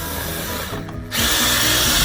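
A screw is driven with a power driver straight into a soft wood 2x2 stud inside a school bus conversion. A loud, steady motor whine drops away briefly, then resumes slightly louder and continues.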